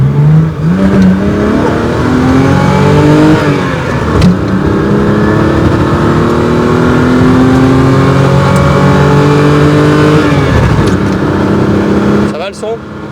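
A BMW 3.0 CS revs and accelerates on the road, its engine note climbing through the gears in rising sweeps that shift and climb again, loud and close from inside the car, with occasional voices talking over it.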